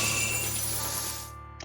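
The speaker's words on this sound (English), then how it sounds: "The chains are broken." Anime-style effect of chains shattering in a Fate/Stay Night Unlimited Blade Works battle: a bright, crystalline burst of breaking that rings and fades over about a second, ending in a faint high ping.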